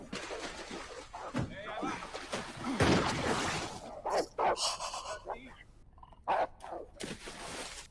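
A dog in the 2007 film No Country for Old Men barks and pants among slams and crashes, while viewers talk and react over the scene.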